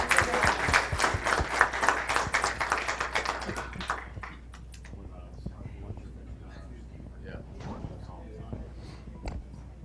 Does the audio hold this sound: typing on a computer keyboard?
no